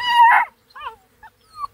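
Black and Tan Coonhound puppy whimpering close to the microphone, one louder drawn-out whine followed by several shorter, thinner high whimpers separated by brief pauses.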